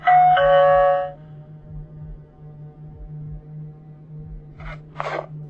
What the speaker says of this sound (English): he sticks that big old bear paw up there and rings the doorbell